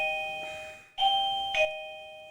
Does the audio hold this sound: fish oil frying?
no